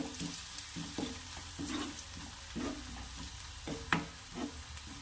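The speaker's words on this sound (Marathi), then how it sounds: "छान असं परतून घ्यायचं" Moong vadi curry with red chilli sautéed in a pan, close soft sizzling under a rhythmic series of spatula scrapes and stirs roughly every half second, with one sharper clack near the end.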